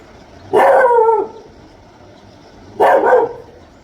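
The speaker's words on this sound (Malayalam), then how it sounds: "ഈ ഒരു നായി കുറേ നേരമായി ശ്രമിച്ചുകൊണ്ടിരിക്കുന്നു" A dog on the road through rainy Valparai gives two loud, drawn-out barks close by, spaced about two seconds apart over a quiet background.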